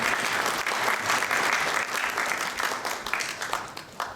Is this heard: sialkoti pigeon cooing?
no